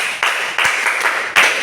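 An Epie language class claps together in a short round of applause, producing several loud, close bursts of hand claps over about two seconds.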